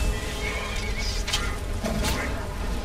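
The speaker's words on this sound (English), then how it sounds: "That was the sound of my horse dying." A horse whinnies loudly as it dies in the video game Skyrim, its cry rising over the game's steady music and fight sounds.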